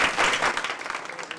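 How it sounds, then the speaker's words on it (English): An audience at a dance legacy conversation event bursts into applause, a dense wash of clapping at its loudest at the start and then thinning out over a second and a half. "a big round of applause for our"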